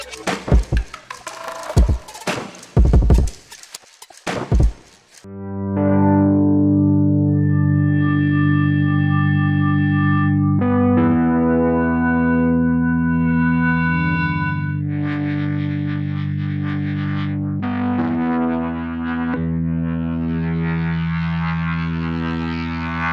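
Heavily processed synth-like tones from Creative Intent effects plugins, a sustained droning pitched sound shifting between harmonic layers after a few seconds of choppy stuttered bursts, loud and alone throughout.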